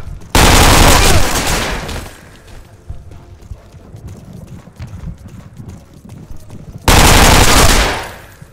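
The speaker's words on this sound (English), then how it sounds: "I heard the distinct noise of an MP40 scattering across" Two loud bursts of MP40 submachine gun fire in a World War II shooter game, each lasting over a second and a half, separated by quieter game ambience with scattered distant shots.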